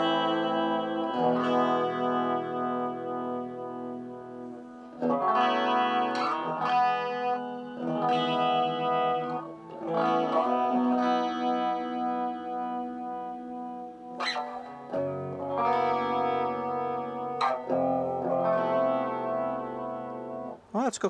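Electric guitar runs through a prototype PT2399 echo IC pedal, sustained chords and notes shimmering with modulation and echo repeats, played alone at steady volume with short pauses and pick clicks between phrases.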